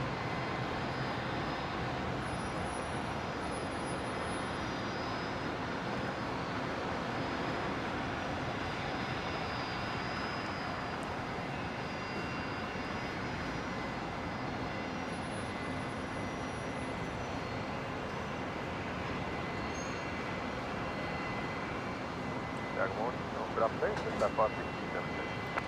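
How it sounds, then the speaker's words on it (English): A QantasLink Dash 8 turboprop taxiing to its bay at Brisbane airport gives a constant, fairly faint engine drone that stays level for the whole stretch, with a few brief clicks near the end. "Qantas Link Dash 8 here is the one we just saw arriving from Wagga Wagga on 19 lefts."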